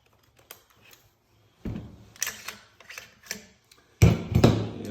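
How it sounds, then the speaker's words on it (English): Metallic clicks, a slide and a couple of sharp clacks as the bolt and charging handle come out of a rifle with a folding stock, close and fairly quiet, with no talk. "I do want to take my bolt out for this."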